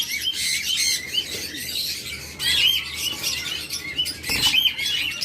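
Pet budgerigars and lovebirds chirp and twitter busily at a bird seller's stall, a dense, continuous chorus of high, overlapping calls close by with no talk.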